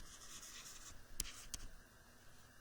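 Faint, close handwriting while working an assignment problem, with soft continuous scratching of strokes and a couple of sharper taps from the writing tool pressing down.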